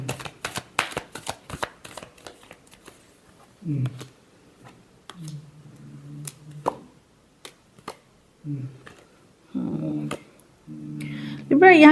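Tarot cards are shuffled up close, a rapid flurry of crisp riffling clicks for the first few seconds, followed by a person talking in short bursts.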